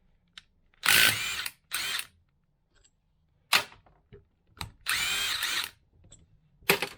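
A power tool whirs in short, loud bursts while removing bolts from an LT95 centre differential, with small metallic clicks and clanks between the runs.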